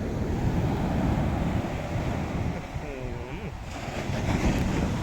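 Sea waves wash over Hat Sai Kaeo beach in Phuket in strong wind, a loud, continuous roar of surf with heavy wind rumble on the microphone throughout.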